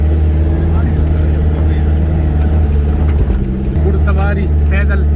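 A jeep labours up a very steep mountain track toward Gabin Jabba, its engine droning loudly and steadily throughout with rough, rattling road noise close up.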